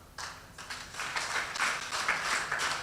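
Audience applause at an outdoor broadcast event in Nigeria: a steady wash of many hands clapping, moderately loud and continuous, swelling slightly toward the end with a faint voice underneath.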